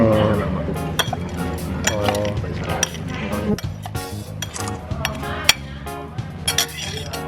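Utensils scrape and clink against a dish as food is mixed, giving irregular sharp metallic taps over a background of voices and other sound.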